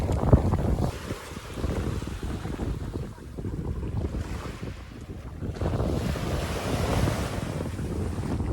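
Surf rolls onto a St. John beach near Cruz Bay with strong wind buffeting the microphone, a continuous loud rush of water and wind that swells and eases in waves.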